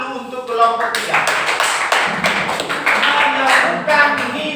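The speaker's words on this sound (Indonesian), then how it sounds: "Tepuk tangan dulu untuk kelompok 3" A classroom of students claps for a student group that has just presented on Charles's law. The clapping is steady and close throughout, mixed with voices talking over it.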